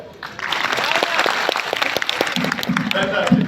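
An audience at a web and data summit talk claps loudly and continuously for a few seconds, a dense close burst of hands with voices mixed in.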